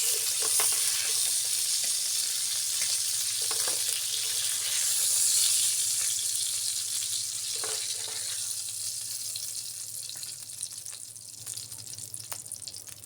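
Fish fry in a pan with a constant loud sizzle and hiss. Occasional pops and crackles sound close by, and a low hum runs underneath.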